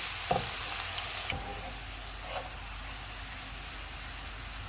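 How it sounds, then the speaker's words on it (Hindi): Faint, steady sizzling of onions frying golden in oil, with a few soft clinks of a utensil against the pan. "प्याज को गोल्डन फ्राई करेंगे।"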